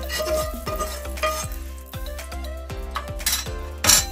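Chicken pieces tumble into soup in a pressure cooker pot, bringing a run of regular metallic clinks and knocks against the pot, along with light sizzling and splashing.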